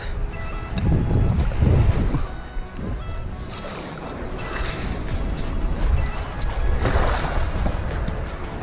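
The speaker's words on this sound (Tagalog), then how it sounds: "Dito sa tabing dagat." Surf washing onto a seashore during a fishing trip, a steady broadband wash with wind buffeting the microphone and swells rising and falling throughout; no talk over it.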